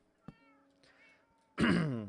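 Minecraft cat meowing inside a hardcore survival world, a short clear meow near the start, a softer tonal mew in the middle, then a louder, longer drawn-out meow at the end, with no talking.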